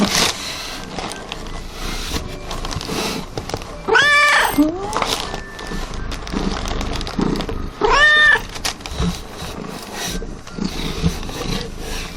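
Two clear, drawn-out cat meows several seconds apart, close and fairly loud over a noisy background with faint murmuring.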